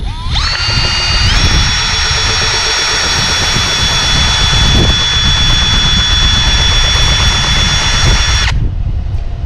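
A 75-year-old oil pump running on low speed gives a loud, steady high-pitched electric whine over a rough rumble, holding constant for about eight seconds before cutting off abruptly.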